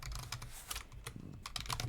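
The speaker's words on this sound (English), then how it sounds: "Typing is hard." Rapid, irregular keystrokes on a computer keyboard clatter close and fairly quiet in a short, continuous burst with no talking.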